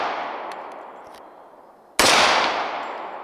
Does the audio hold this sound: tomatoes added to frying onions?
no